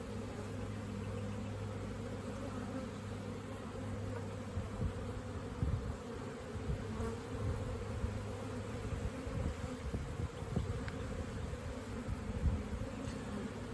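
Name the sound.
honey bees buzzing at an open hive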